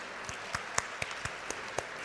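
Applause from the audience at a university convocation ceremony, faint and distant, with scattered individual claps standing out in a loose, uneven rhythm.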